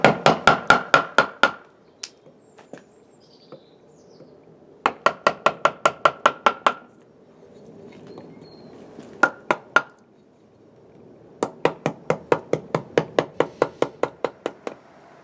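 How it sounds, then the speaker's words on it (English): Gouge being struck into an applewood bowl blank: fast bursts of sharp, ringing mallet-like knocks, about a dozen blows each, separated by pauses with a few scattered single taps, close and loud. "about 10 minutes worth of work with the gouge, and we've started to get the foundation of our bowl"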